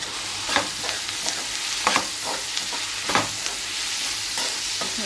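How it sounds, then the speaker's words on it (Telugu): Curry leaves dropped into a hot frying pan of onion and egg curry sizzle steadily, with repeated stirring scrapes breaking through the crackle and no talking. "మూత అనేది తీసేసి మనం దీంట్లో కరివేపాకు అనేది వేసేసుకోవాలి."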